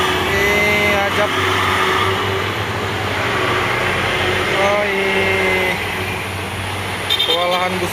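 A heavily loaded passenger bus bound for Pekanbaru labors up the steep Bukit Kodok climb, its engine droning loud and continuous with a rough mechanical whine and a couple of brief gear or rev shifts, close to the listener.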